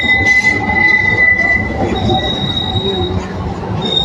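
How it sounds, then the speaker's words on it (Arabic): A tram passes along an old market street in Istanbul's Beyazıt district, its steady rumble and high wheel squeal running loud and close throughout under general street bustle. "وادي الترام معدي اهو."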